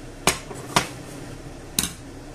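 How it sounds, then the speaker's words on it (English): Three sharp metallic clanks, spaced unevenly, as a frying pan is cleaned while cooking a cabbage and potato Spanish omelette. Each knock is crisp and close, with a brief ring and quiet pauses between. "So I'm going to clean this pan a little bit."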